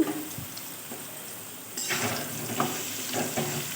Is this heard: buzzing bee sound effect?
no